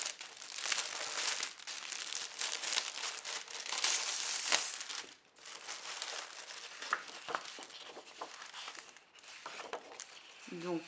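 Scrapbooking paper sheets with a Christmas forest theme are handled and crinkled close by, in steady rustling and crackling with brief pauses, without talking.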